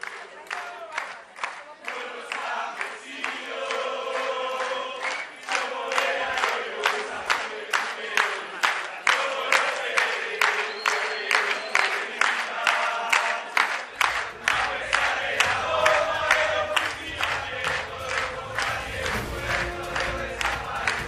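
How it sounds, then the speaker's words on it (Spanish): A large crowd at a Latin American progressive youth gathering in Ecuador claps and cheers, with rhythmic chanting in pulsing bursts and loud sustained roaring throughout. "Un fuerte aplauso para todas las juventudes, todos los compañeros que están hoy aquí y a todas las delegaciones internacionales."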